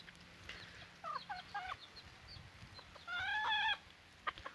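Black-and-white İspenç roosters and hens in a coop give soft, scattered clucks and short calls, with one brighter, longer call near the end, all fairly faint against low background noise.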